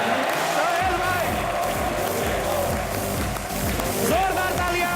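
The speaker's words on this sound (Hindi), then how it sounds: "जोरदार तालियां।" A studio audience on a comedy talk show claps and cheers loudly and steadily for the whole stretch, a dense wash of applause with shouting voices mixed in.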